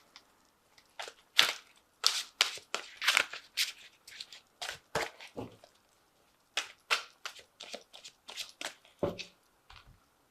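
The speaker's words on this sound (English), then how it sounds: "So I'm just going to draw some cards from the Angel Tarot." Angel Tarot cards being shuffled and drawn, a quiet close run of crisp papery riffles, slaps and flicks in irregular clusters with short pauses, soft overall with no talking.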